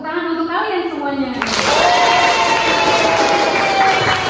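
Students in a vocational high school classroom burst into loud, sustained clapping and cheering close by, right after a teacher's voice speaks.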